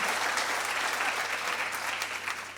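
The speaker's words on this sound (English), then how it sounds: "I think that deserves a massive round of applause as well" Audience applause at a talk honouring a record-holding Irish camogie and football All-Ireland champion, steady and dense clapping from a sizable crowd sustained evenly throughout without speech.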